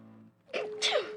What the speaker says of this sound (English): That sneeze was in a different zip code